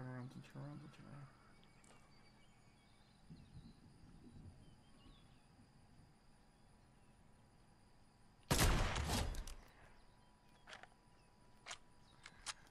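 Gunfire in the Fortnite Chapter 2 video game: one loud, sharp burst lands partway through, followed by a few faint cracks, over quiet game ambience and occasional talk.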